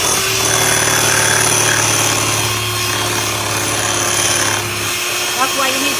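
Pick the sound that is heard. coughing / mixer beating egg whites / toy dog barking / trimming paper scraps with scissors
mixer beating egg whites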